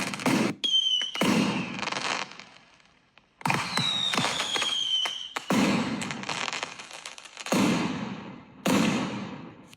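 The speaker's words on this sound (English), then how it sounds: "Then we have this one here with fireworks." AI-generated fireworks from Meta Movie Gen, a series of loud bursting booms with whistling rising streaks and crackling tails, several bursts spread over about ten seconds with short silent gaps between them.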